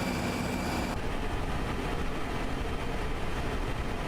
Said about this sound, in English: A lot of wind noise this airplane has.